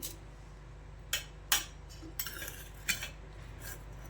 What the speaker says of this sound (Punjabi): ਤੇ ਹੁਣ ਆਪਾਂ ਇਹ ਇਸ ਤਰੀਕੇ ਨਾਲ ਸਾਈਡ ਤੋਂ ਕਰ ਕਰਕੇ ਕੱਢ ਲੈਣੇ ਆ ਚਮਚ ਨਾਲ